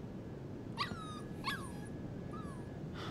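A dog whimpers in the video game Life is Strange 2, with three high, thin whines spaced about a second apart over a steady low background hum.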